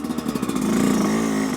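A two-stroke motorcycle ridden for a wheelie demonstration sounds its engine loud and close, starting with choppy revs and then settling into a sustained, rising buzz as it draws near.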